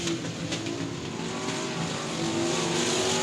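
Street stock race cars roar around South Texas Speedway, a dense, steady wash of engine noise with cars sliding up the track, loud and continuous with no voices.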